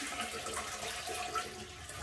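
Dirty water from a clogged bathroom sink being poured into a toilet, a continuous rushing splash heard close up without talk.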